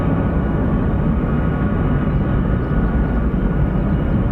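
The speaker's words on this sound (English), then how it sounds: "This is a C-17." A C-17 military transport aircraft flies near RAF Mildenhall with a loud, continuous low jet roar that holds steady throughout, with no voices over it.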